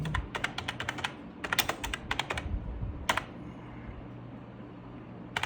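Typing on a computer keyboard: quick bursts of crisp key clicks in irregular clusters, close and clear, with short pauses between runs and a final few taps.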